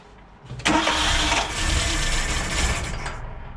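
Small engine being started on choke with an empty carburetor, a sudden loud crank that catches into a rough, labouring run and then begins to fade.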